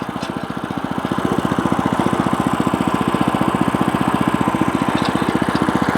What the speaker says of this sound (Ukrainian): тихенько-тихенько їде мотоблочок